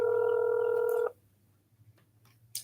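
A telephone keypad sounds a single steady dual-tone beep lasting about a second while a call is transferred, followed by near silence and a brief faint click at the end.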